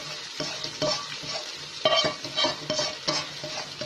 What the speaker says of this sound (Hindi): अब ये मसाला भी मैं इसमें डाल देती हूँ भिंडी के अंदर।